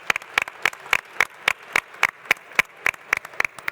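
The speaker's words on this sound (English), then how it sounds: "huge round of applause for Melissa Dunn to give her the strength to carry on" Sharp, evenly spaced claps for a panelist at a customer-experience conference session. They form a steady beat of about fourteen distinct strikes, with quiet gaps between them.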